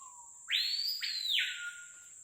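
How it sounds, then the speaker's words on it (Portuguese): A single capitão do mato bird in a Brazilian forest sings one clear, loud, sweeping whistled call that rises, breaks briefly, and glides down over a quiet backdrop. "Esse que tá cantando?"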